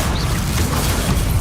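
The Incendio fire spell going off in the video game Hogwarts Legacy: a dense, roaring burst of flame with a low rumbling body, sustained and loud for the whole moment, with no talking.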